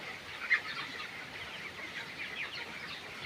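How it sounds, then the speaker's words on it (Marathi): A large shed flock of 21-day-old broiler chickens on a poultry farm, thousands of birds, giving a continuous faint chorus of overlapping chirps and peeps at a distance, with one slightly louder call early on. "तर हे आता 21 दिवसाचे पक्षी आहेत"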